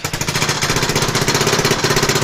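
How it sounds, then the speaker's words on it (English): A specially designed biogas generator runs steadily to make electricity from wet-waste biogas, giving a loud, continuous engine chug with fast regular pulsing throughout and no voices. "Biogas from the scrubber unit is connected to specially designed biogas generator to convert it into electricity."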